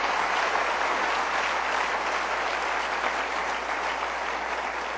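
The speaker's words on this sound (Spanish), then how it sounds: "Denle un aplauso al Señor" Sustained applause from a church audience during a Spanish-language sermon, a steady, dense roar of many hands clapping at even loudness from start to finish, with a faint hum beneath.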